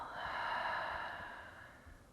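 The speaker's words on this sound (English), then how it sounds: "And final exhale." One long, breathy exhale at the end of a yoga flow swells then slowly fades, soft and close, with no speech.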